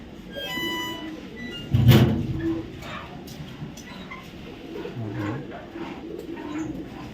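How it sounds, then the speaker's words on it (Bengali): A racing pigeon coos softly while being handled, a few low murmuring calls under a muffled bump and rustle, with faint background noise and a distant voice. "আমি একটা কবুতর ধরে দেখাই কবুতর"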